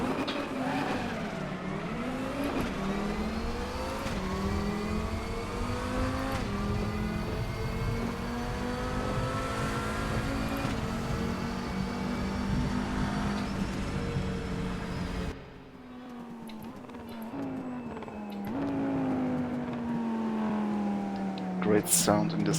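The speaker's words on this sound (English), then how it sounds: "Ooh, lots of wheel spin." An Audi TT RS VLN race car in the RaceRoom racing game spins its wheels off the start line, its engine revving hard and climbing through gears, briefly dropping off before surging again.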